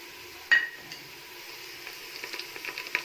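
Chana pulao with whole spices browns in a pot as a spoon stirs it, a soft sizzle under scraping and a few light clinks, close and moderately loud.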